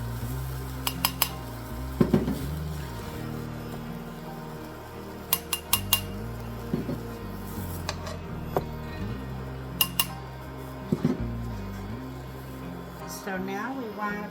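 Metal utensils clink and scrape against a pan as sautéed mushrooms are lifted out, with a series of sharp taps and clatters over a steady low kitchen hum, and someone talking at times.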